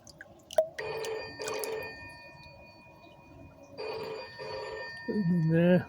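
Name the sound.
telephone ringing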